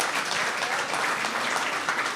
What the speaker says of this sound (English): And another round of applause for...